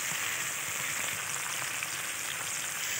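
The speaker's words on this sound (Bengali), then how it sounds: "তো চলো এবারে দেওয়া হবে রসুন বাটা।" Garlic paste frying in a pan for mutton curry, a constant hissing sizzle close by, quiet and even with no talking.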